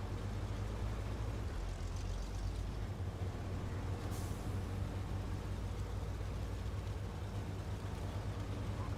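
A truck's handbrake engages in SnowRunner with a short, sharp air hiss midway, set against a constant, loud, low engine drone that runs throughout.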